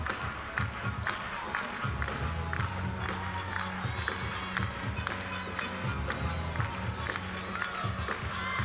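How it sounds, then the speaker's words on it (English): A crowd at a women's college gymnastics meet claps in a steady rhythmic beat with cheering throughout, and an announcer talks over it. "A little bit of clapping going on in the background."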